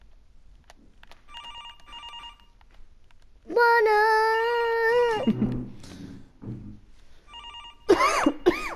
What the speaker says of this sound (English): No, but I hear a phone ringing.